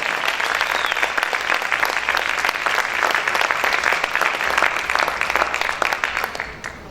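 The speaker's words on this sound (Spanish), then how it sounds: "Vamos a aplaudir más fuerte al Señor" A church congregation applauds loudly and continuously in dense, sustained clapping with crisp individual claps audible through the wash, fading slightly at the very end.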